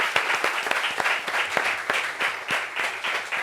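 A live audience claps hard in a dense, even burst of applause that holds steady for a few seconds, with individual hand claps standing out sharply within the crowd noise.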